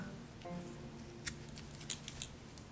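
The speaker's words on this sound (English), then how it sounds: "I'm going to cut the yellow here." A few quick snips of scissors cutting yellow yarn during Tunisian crochet colorwork, soft close clicks over quiet room tone near the end, after a brief low murmur.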